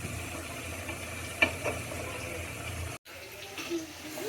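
Chicken being stirred through a spiced curry masala in a pan: a soft, steady sizzle with a couple of spoon scrapes and knocks, briefly cut off, then resuming.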